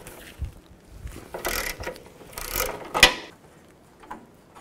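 A ratchet wrench with a 13 mm socket works nuts loose on a 2007-16 GMC Acadia during radiator replacement, giving a few short bursts of clicking and metallic rattling, close by and fairly quiet.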